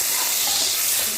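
Tomatoes drop into a hot pan of onions for a mutton bone soup, producing a brief, loud, hissing sizzle that stays even throughout, with no talking.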